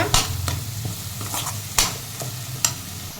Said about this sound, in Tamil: சிம்மிலே வச்சு வதக்கிக்கோங்க.